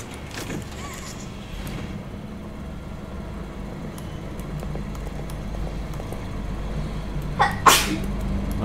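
A single sharp sneeze in the Poppy Playtime Chapter 2 video game, loud and sudden near the end, over a low steady background hum.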